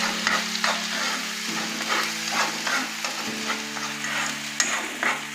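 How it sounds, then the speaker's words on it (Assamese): Spices sizzle in butter in a pan while cooking butter chicken, a steady close-up frying hiss broken by repeated scraping strokes of a spoon stirring, with no voices. "মছলাখিনি মই ধুনীয়াকৈ ভাজি ল'ম।"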